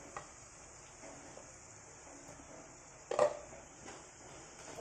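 Ground coriander and chili powder stirred into hot oil in a pan for a Kerala-style fish curry, a quiet scraping stir with faint sizzle and one louder clink of the spoon against the pan partway through.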